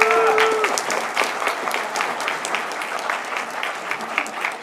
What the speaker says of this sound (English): More clapping. Give yourself a hand